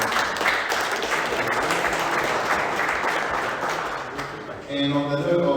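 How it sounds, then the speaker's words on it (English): An audience at an NFT meetup applauds the sponsors, a broad wash of clapping lasting several seconds that fades, then a voice speaks. "big round of applause for our sponsors"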